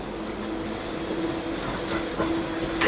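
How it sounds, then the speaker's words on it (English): Onboard a South Western Railway Class 458 electric train near Staines, a steady rumbling hum with a faint tonal whine runs continuously, with occasional soft rattles of the carriage. "This train is now approaching Staines."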